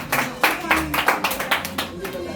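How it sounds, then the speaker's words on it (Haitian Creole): An audience at a contest claps together in quick, uneven bursts. Voices mingle with the applause throughout. "On va applaudir nous même le libertile."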